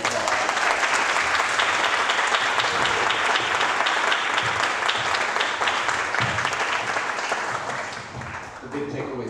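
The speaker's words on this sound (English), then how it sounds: "let's give it another round of applause" Steady, full applause from a conference audience, a long run of many hands clapping together that dips slightly near the end, with voices faintly mixed in.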